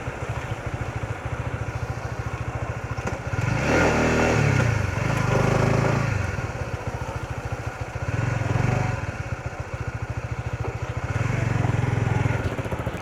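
A 2026 Honda CBR 150R motorcycle being ridden along a road near Nilachal, its engine running steadily close by with several swelling surges of revving and low rumble.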